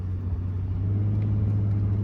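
A 1988 Acura Legend convertible with the 2.7 engine is driving. A steady low engine rumble holds even and close, with no voices over it.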